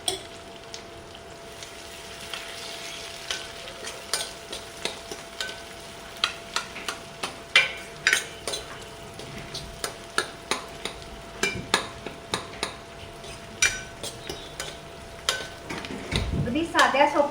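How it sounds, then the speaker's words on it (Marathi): Onion fries in a pan for masoor dal amti while being stirred, a low steady sizzle punctuated by regular scraping clacks of the spoon against the pan, with a louder rush near the end. "आता आपल्याला कांदा टाकायचा आहे. कांदा जरा ट्रान्सफर होतपर्यंत आपल्याला करायचा आहे."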